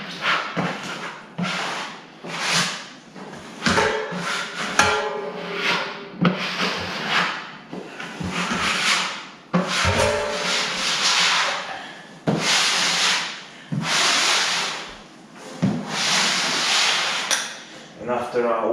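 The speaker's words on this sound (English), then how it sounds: "scraping." A wooden floor being scraped with repeated rough rubbing strokes in an irregular rhythm, close and fairly loud, with brief pauses between passes.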